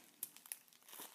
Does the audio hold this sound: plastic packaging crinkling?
yes